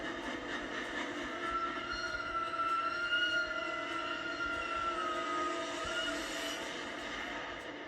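A train from a Thomas the Tank Engine episode rumbles along the line with sustained whistle-like tones and faint wheel squeal, a steady continuous drone with no one talking.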